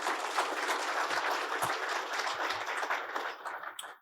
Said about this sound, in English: let's have a quick round of applause for all of our panelists